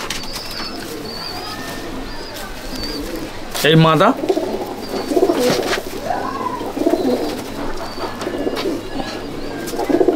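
Pigeons coo and murmur inside a loft at Sangrampur, a soft low burbling that runs throughout, with a brief wing flutter near the start and someone speaking over the birds.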